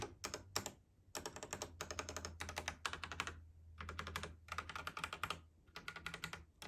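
Keys of a Royal Kludge 100-key mechanical keyboard, including the spacebar, Alt and Control, clack in quick bursts of typing with short pauses between, close and crisp, over a low steady hum.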